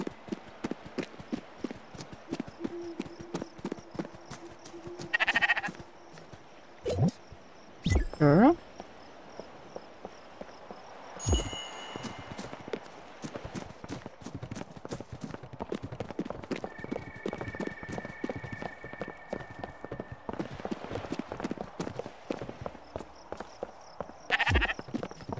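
Sheep bleating in the video game Spiritfarer, a few bleats spaced among steady, rhythmic hoofbeat clip-clops and soft game ambience, with no talking.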